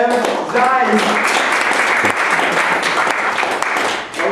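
Sustained applause from an audience at a staged reading of a play, a dense clatter of clapping filling the room with some voices mixed in.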